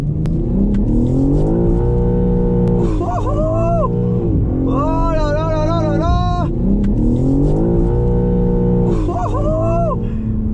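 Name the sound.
BMW M3 Touring car drifting, engine revving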